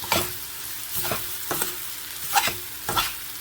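Vegetables sauté in a hot pan under a constant sizzle, while a utensil scrapes through them in regular strokes about every half second. The sound is close, with no voices.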